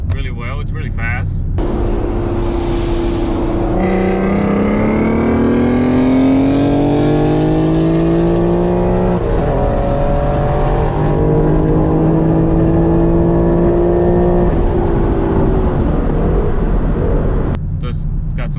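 A supercharged tuned car engine on a dyno revs hard in sustained pulls, its pitch climbing steadily through long loud sweeps, with a brief drop between runs and a whining edge over the deep roar.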